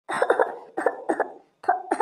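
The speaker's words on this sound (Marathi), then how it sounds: "आणि खोकला येतो का नाही आता?" A cartoon patient coughs in short bursts: two or three quick coughs, a pause, another pair, then more, close and fairly loud.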